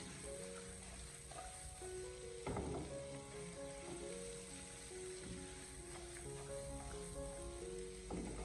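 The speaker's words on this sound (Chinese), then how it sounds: "然后再继续开大火将它翻炒一小会，将食材给它翻炒均匀" Potato slices with green and red chili peppers and onion strips are stir-fried over high heat in a wok, making a continuous soft sizzle with occasional louder tossing clatters, under steady background music and no speech.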